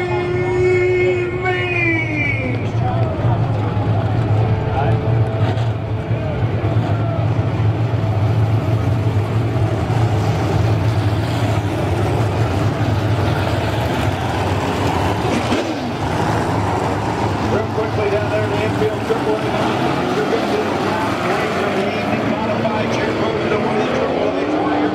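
Race cars roar around the track at 81 Speedway during a Thumpers feature on the Fourth of July, engines droning steadily as cars pass, while an announcer talks over the racing noise.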